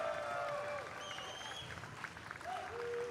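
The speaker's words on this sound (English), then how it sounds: "You hear the crowd." A crowd at the Tetris World Championship applauds with sustained clapping and some cheering in a large room, while a voice speaks over it.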